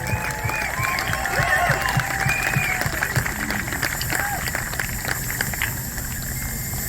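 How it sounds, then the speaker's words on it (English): Rally crowd in Sydney cheering and applauding at a freedom rally, a dense continuous wash of clapping and shouts at steady loudness for several seconds, with voices mixed in. "Let's have one more cheer."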